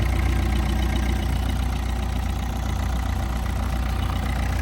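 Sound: car engine idling

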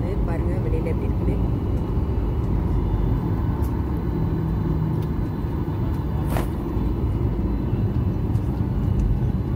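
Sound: airplane taking off, heard from inside the cabin

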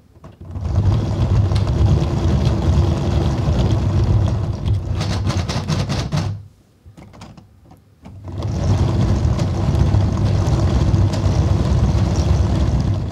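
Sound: heavy gearbox with mega gear multipliers running in gear

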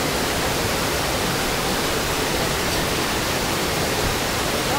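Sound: Amboli waterfall

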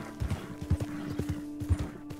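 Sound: horse hooves galloping in Red Dead video game

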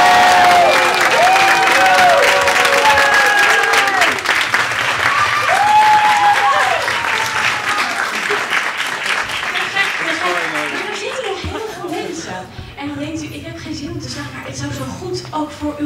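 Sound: theatre audience applauding and cheering

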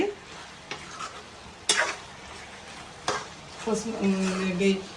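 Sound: stirring and frying mutton curry with chili powder in a pan

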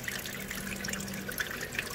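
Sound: flood coolant spraying and splashing on a surface grinder

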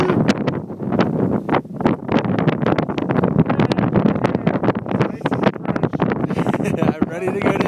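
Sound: wind blowing snow on a mountain

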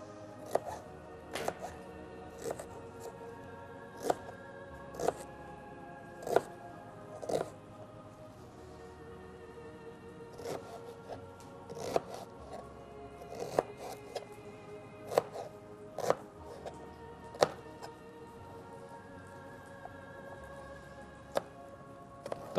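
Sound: chopping onion into squares

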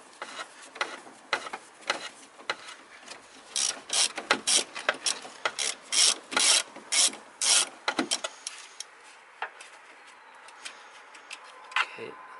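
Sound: ratchet removing throttle body bolts

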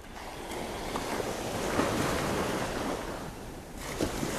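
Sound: ocean waves breaking on a beach

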